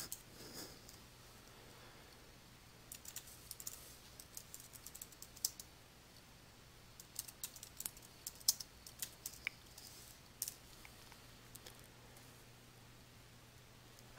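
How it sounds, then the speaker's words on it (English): Quiet computer keyboard typing while entering a WordPress category description: scattered light key clicks in irregular bursts over a low steady hum, with no speech. "Enter a description for the category into the description text box."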